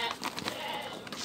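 Goats and sheep at a livestock seller's pen, including Jawa Randu goats, let out a few wavering bleats in quick succession, moderately close.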